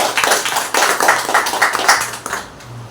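A church congregation clapping loudly during a fasting prayer service, with strong, pulsing bursts of many hands in a loose rhythm that tapers off near the end.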